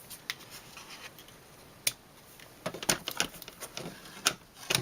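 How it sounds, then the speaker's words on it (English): Scissors snip through ribbon in a series of sharp, close clicks, one isolated cut followed by a quicker cluster of snips, with no talk. "If I think the ribbon is too long, I'm going to cut it off slightly."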